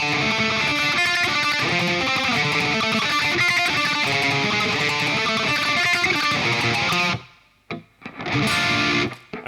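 A distorted black metal guitar riff in 7/4 played at full tempo, loud and dense with steady rhythmic chugging, then cutting out abruptly near the end before a few brief stabs.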